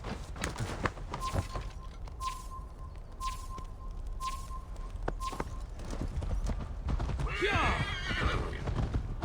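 Horse in Assassin's Creed Valhalla whinnying and clip-clopping along at a steady pace, with game music, brief chimes and other ambient sounds around it and voices talking.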